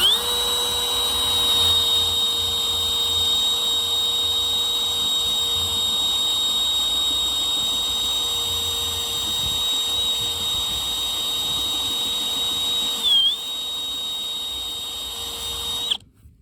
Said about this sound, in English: I wanted to show you with this rubber wheel and whatever Milwaukee drill, whatever drill.